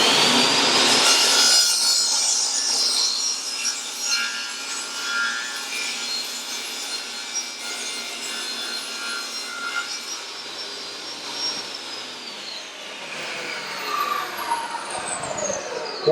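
A table saw cuts a channel through scrap wood, the blade whining loudly as it bites in, then a long sustained cut that fades as the blade spins down toward the end.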